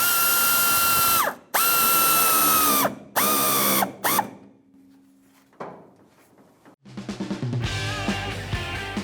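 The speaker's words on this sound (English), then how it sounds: "the same socket, tighten up the hose" A socket ratchet tightens a hose clamp on the rear fuel tank filler neck of a 1992-1996 Ford F-150, with several loud, close bursts of ratcheting early on, a quiet pause, then a rapid rattling run of clicks at the end.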